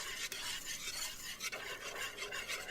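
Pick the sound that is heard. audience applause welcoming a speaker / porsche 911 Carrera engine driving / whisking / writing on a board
whisking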